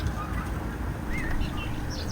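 Birds sing and chirp faintly along a flowered verge by the River Maun near an old railway bridge, a few brief high calls over steady outdoor rumble and background noise.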